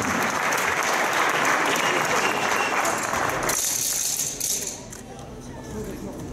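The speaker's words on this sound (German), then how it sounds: "Nochmal einen Applaus für unsere Duettkandidatin." Loud, steady applause from the audience at a German IFBB European Championship qualifier for a women's duet contestant, a dense clapping wash that thins and drops in level toward the end.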